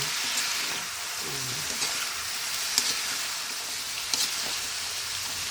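Vegetables for ginataang gulay sizzle steadily in a hot pan while being stirred, a constant crackling hiss with a few brief scraping clicks from the stirring utensil, no talk.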